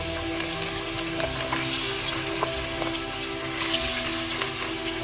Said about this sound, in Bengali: তেলটা গরম হয়ে গেছে। তো আমি প্রথমে মাথাটা ভেজে নিব